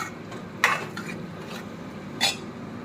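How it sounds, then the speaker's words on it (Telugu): Two tomatoes drop into a pan of prawn curry gravy, making two brief clattering knocks, one early and one near the end, over a low background hiss. "ఇప్పుడు గ్రేవీ కోసం 2 టమాటోస్ వేస్తున్నా"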